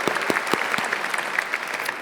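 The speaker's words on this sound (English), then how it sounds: "Applause for Helene, sorry." Applause for Helene at a Get in the Ring Netherlands event: a crowd claps steadily for about two seconds, with a few louder nearby claps standing out over the dense patter, and no talking.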